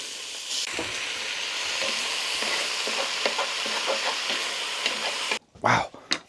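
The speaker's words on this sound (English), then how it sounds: "Oh yeah, hear that sizzle" Food frying in a Dutch oven on a stove inside a hot tent, a steady crackling sizzle with stirring scrapes, close and continuous before a voice breaks in at the end.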